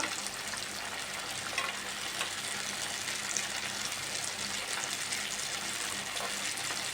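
A fishless veg fish fry, coated in masala with rice flour or cornflour, sizzles in a pan as it crisps. The frying hiss is steady, close and fairly loud, and no one talks over it.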